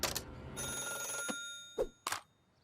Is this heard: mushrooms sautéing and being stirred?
no